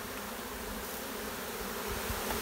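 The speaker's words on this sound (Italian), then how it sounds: "La regina è nell'arnia, emetterà un feromone per attirare il resto dello sciame," Swarm of honey bees buzzing around a hive, a dense, steady, fairly close drone of many wings humming together without pause.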